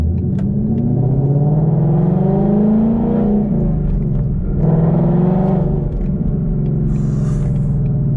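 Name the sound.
sports car engine in track mode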